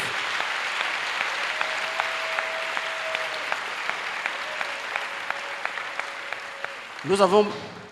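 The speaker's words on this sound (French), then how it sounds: "Clap loudly for Jesus." A congregation claps loudly for Jesus during a salvation and healing weekend church service in Port-Bouët. Dense, steady clapping fills the space over regular tonal musical beats, and a voice briefly breaks in at the end.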